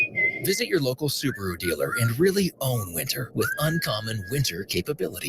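A confident driver whistles Beethoven's Fifth in a Subaru winter ad, with thin melodic whistled notes running under a narrator's voice.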